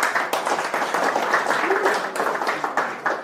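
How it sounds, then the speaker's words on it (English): Audience applause at an Ubuntu conference, a dense, steady patter of many hands clapping at moderate volume, with some voices faintly mixed in. "One applause for him."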